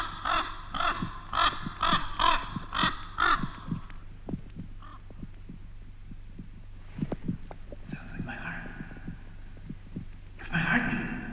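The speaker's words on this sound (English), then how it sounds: "My heart is beating again. Don't you hear it?" A low, throbbing heartbeat pulses steadily through a 1971 film scene, thudding in slow rhythm under harsher cawing and buzzing sounds, with no one speaking.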